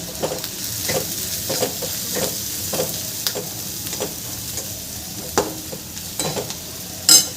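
Noodles with turmeric, chili powder and salt are being mixed with Maggi masala in a hot pan, giving a steady low sizzle broken by repeated scraping stirs of the spoon and a sharper clank near the end.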